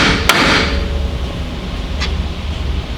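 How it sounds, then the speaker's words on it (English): A hammer strikes a steel Miata steering knuckle to free a tapered lower ball joint, two sharp metallic blows about two seconds apart, the first louder and ringing, over quiet garage background. "it's tapered, and so you have to hit it from the outside to allow it to drop out"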